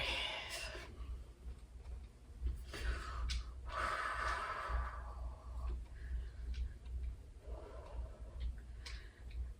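Slow, deep breaths during a qigong exercise come as several audible inhales and exhales, breathy and fairly close, rising and falling in loose rhythm with no speech.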